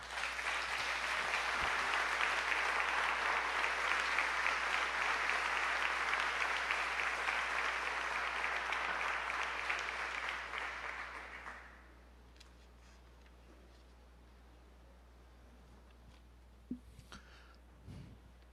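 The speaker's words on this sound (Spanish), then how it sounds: "damos un fuerte aplauso al Señor" A church congregation applauds loudly and steadily for around eleven seconds, then the clapping fades out, leaving near-quiet room tone broken by a few faint knocks.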